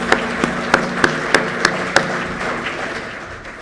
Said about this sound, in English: I would like to extend a round of applause to my team